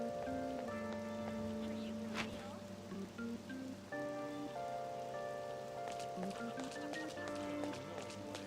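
Continuous rain in the video game Persona 5 Royal patters on a surface at a steady volume, accompanied by soft held musical notes and occasional quick thumping steps.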